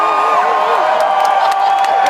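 An audience cheering and whooping together, a dense continuous crowd roar with scattered shouts and a little clapping, loud and steady throughout.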